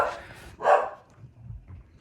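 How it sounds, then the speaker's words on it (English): A dog gives a couple of short barks or yips in a kitchen where sourdough is baking, moderately close with quiet low rumble between them. "No bark, Chew."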